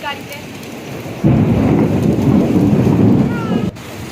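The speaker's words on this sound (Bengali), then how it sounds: "দেখো সকালবেলা কি বৃষ্টি" Heavy morning rain pours down with thunder, a loud low rumble rolling in about a second in and holding for a few seconds over the constant hiss of rain.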